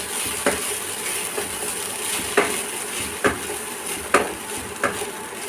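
Spatula stirring poha pulao (flattened rice pilaf) in a pan, a steady soft scraping hiss broken by several sharp clinks of utensil against metal, close and moderately loud with no talk.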